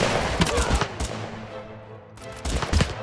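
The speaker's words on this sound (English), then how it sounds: "They're getting shot at from all angles right now." Dense gunfire in the battle game TABS, Germans fighting Vietnamese and American troops, with overlapping loud shots that briefly thin out before another burst of rapid firing.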